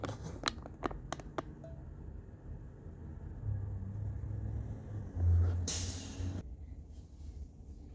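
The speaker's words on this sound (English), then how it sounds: "Another Thomas HDX making a U-turn." A Thomas HDX school bus makes a U-turn while leaving a tournament location, giving a faint, distant engine rumble that swells midway, then a short burst of air-brake hiss, with a few light clicks earlier and no talking.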